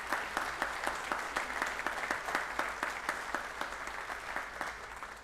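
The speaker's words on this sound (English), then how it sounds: "Let's give him a round of applause." Steady audience applause fills a Windham School District board of trustees meeting in Austin, a dense, even patter of many hands clapping at moderate distance throughout, with no talk over it.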